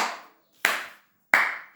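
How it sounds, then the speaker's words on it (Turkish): Three deliberate, evenly spaced hand claps, loud and close with silence between them, given as a playful 'you're so smart' applause during a lemon-eating contest. "Çok akıllısın alkışı"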